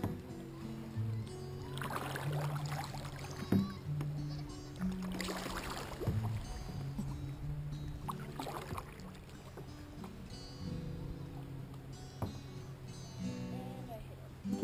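Old Town Predator XL kayak paddled along the Peace River, with steady paddle strokes and water movement near and fairly constant, mixed with faint outdoor background and some speech.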